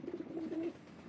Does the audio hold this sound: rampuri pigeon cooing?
yes